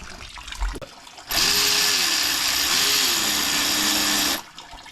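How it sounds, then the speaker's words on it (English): A right-angle impact wrench runs in one sustained three-second burst on a bolt during transmission removal from a 2015 Ram 2500 with a 68RFE gearbox, a loud close whirring hammer with a slight pitch wobble, preceded by a few faint clunks. "A right-handed impact. I call it a right-handed impact."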